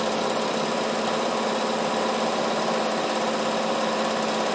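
Sewing machine stitching down the side of fabric for a car rubbish bag, a steady fast mechanical whirring hum that runs without a break, close and alone.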